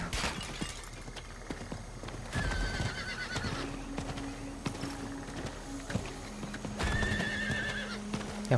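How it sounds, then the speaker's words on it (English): Horse hooves clip-clop in the Diablo 4 video game, a steady walking rhythm of hoofbeats mixed with game effects and occasional tonal chimes. "Yeah, horse feels like in slow-mo. Like, it should be way faster than this."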